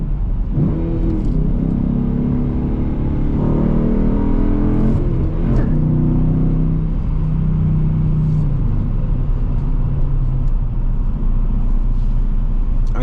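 A Dodge Challenger R/T's V8 engine rumbles loudly and steadily with a deep throaty tone, rising and falling slightly as the manual-gearbox car drives, no talking.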